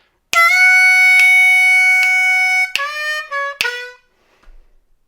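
A harmonica plays a blues lick: a long sustained draw note with rhythmic re-articulations, then bent draw notes sliding down in pitch, played solo and close with no talking.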